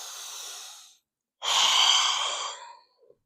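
A deep, full breath taken during a full-body cool-down stretch: a steady inhale, a brief pause, then a longer, louder breathy exhale, close and alone without talk.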